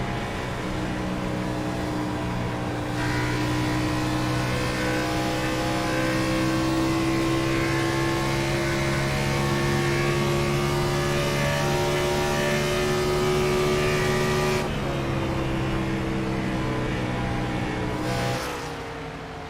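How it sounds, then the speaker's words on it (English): Race cars accelerating around the track at Homestead, a loud continuous engine roar with steady rising tones that holds for most of the stretch, shifting sharply near the end as cars pass. "As he cracked the throttle a little bit, got tight coming around Bartley in the 11."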